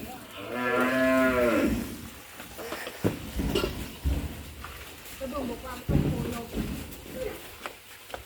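Cattle in a cow and buffalo pen give a long, loud moo near the start, followed by shuffling, feeding noises and someone talking over the livestock sounds.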